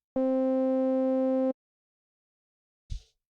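A Pigments synthesizer Chunky Tone patch sounds as a single steady buzzy drone note held for about a second and a half, cutting off cleanly, followed after silence by a brief soft thump.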